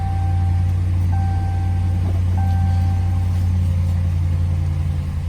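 A 2016 Ram 1500 Big Horn pickup truck engine idles steadily after starting, a low, constant rumble with a faint whine riding above it, close by and unbroken throughout.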